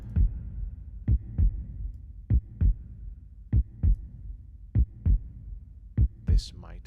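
A designed, realistic heartbeat effect plays alone as low, thumping lub-dub pairs repeating at a steady, calm rhythm, with one brief extra noise at the end.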